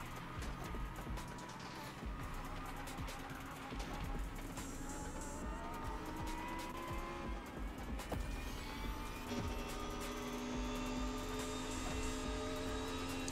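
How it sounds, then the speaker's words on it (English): A car engine in the racing game The Crew Motorfest, a continuous rumbling drone with rising and falling revs and passing whooshes, moderately loud and steady throughout. "Is that my car making that noise?"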